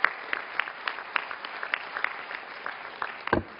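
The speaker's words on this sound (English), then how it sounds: "can you give him a round of applause for treating our mayors to dinner last night as well?" Sparse, scattered clapping from a modest audience at a panel event with Kareem Abdul-Jabbar, individual claps popping irregularly with a louder burst near the end.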